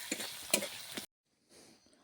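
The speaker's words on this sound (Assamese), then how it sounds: "তাৰপিছত পিঁয়াজখিনি ভালকৈ ভাজি ল'ম" Onions with ginger and garlic fry in a pan for a fish curry, close stirring scrapes and sizzling for about a second, then a brief silence and a faint soft sizzle, with no talk.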